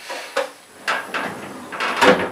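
A drawer of a tool storage unit being pulled open, making a series of sliding scrapes and knocks with a sharper clack at the end, fairly close and with no talking.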